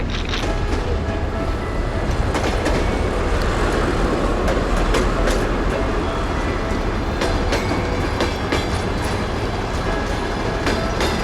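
A train carriage rolls along the rails near Zhytomyr, Ukraine, with a constant close rumble and sharp wheel clicks and clacks that recur throughout the ride.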